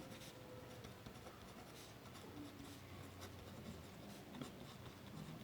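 Chalk or marker scratches and scrapes across a board in a statistics lecture classroom, faint and continuous against a steady room hiss.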